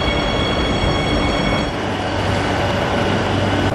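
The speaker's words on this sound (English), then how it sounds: "I'm gonna get on the metro now." A metro train near Nuevos Ministerios station rolls along with a loud, continuous rumble and faint high-pitched whine from the wheels, steady throughout without any talking.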